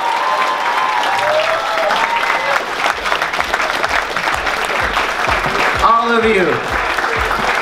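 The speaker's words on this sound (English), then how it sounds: "one big awesome round of applause from everyone for their performances tonight" A big round of crowd applause and cheering for fursuit dance competition performers at a furry convention, dense and continuous, with a loud announcer's voice speaking over it briefly.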